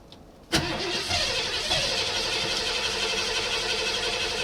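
A temperamental pickup truck engine cranks and catches after a sharp starting thud, then settles into a steady, fairly loud mid-pitched running drone for several seconds.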